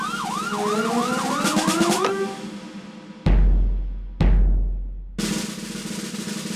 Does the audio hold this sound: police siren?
yes